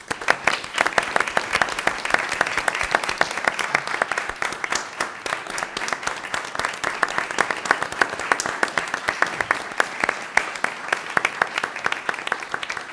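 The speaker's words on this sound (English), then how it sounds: "I would just like to give a round of applause" An audience at a school board meeting claps in sustained, dense applause of many hands for about thirteen seconds, steady and moderately loud with no break.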